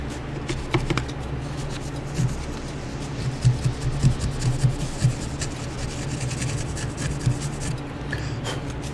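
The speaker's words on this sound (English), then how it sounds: "I usually have a little business card here to do a little scrape. Just a little scraping." A business card scraping grime inside a GIGABYTE PC during maintenance, giving a dry, gritty rubbing and scratching in uneven strokes, close-up and fairly steady across the whole stretch without speech.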